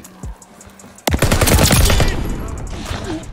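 Turret gunfire in the video game Call of Duty Vanguard: a brief pop, then a loud sustained burst of rapid automatic fire that rolls on and gradually fades with a ringing tail.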